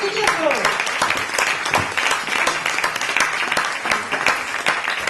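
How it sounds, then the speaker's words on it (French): A comedy-show audience applauds loudly and steadily for the comedian David Coupelefil as he comes on, a dense unbroken clatter of many hands, with a voice briefly speaking over the clapping. "On l'applaudit bien fort."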